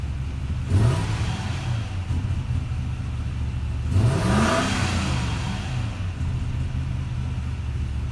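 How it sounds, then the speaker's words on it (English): A 2004 Toyota Tundra pickup with an oil pressure sensor fault and engine vibration revs up twice through a muscle-car-like exhaust, each rising sweep swelling over a steady close idle rumble. "It's doing good though, revving up nice."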